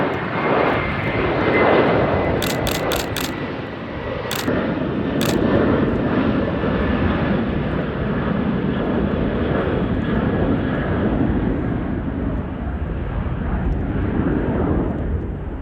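A RAAF F/A-18 Hornet jet at Amberley air base gives a loud, sustained broadband roar that rumbles steadily throughout, with a few faint high clicks early on.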